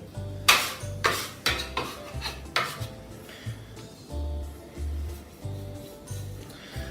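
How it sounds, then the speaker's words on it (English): Bench scraper dragging floured pizza dough together across a table, giving repeated scraping strokes with sharp bursts early on, close and moderately loud, with no talk over it. "now I'm just going to scrape everything together"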